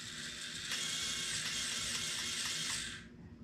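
Porsche slot car electric motor on a Policar track revving as a continuous high-pitched whine, steady and close for about three seconds before cutting off, with no voices.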